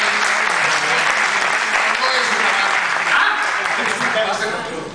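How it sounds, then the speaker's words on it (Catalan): An audience at a live word-game show applauds a contestant, giving loud sustained clapping that fills the room and tapers slightly at the end, with voices mixed in. "un aplaudiment per al senyor"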